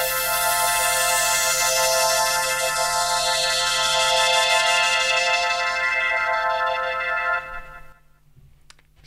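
Speed garage synth pad played back from a Roland SP-808 sampler, a sustained bright tonal chord with a slowly sweeping filter, loud and alone, fading out toward the end.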